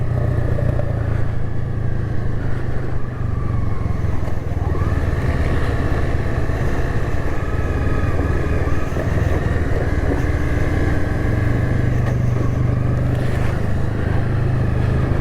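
Honda CBR 250R sport motorcycle riding downhill on a rough mountain road, its engine a steady loud drone with low rumble and road and wind noise throughout.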